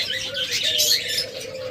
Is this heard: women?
no